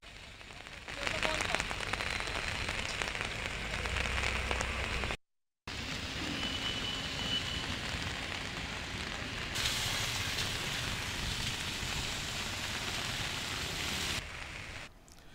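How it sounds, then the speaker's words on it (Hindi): Heavy monsoon downpour in Telangana's Vikarabad district pours as a steady, dense hiss of rain on surfaces, broken by one brief cut, continuous and fairly loud. "आज सुबह से मूसलाधार बारिश हो रही है।"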